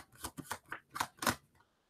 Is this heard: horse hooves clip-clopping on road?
no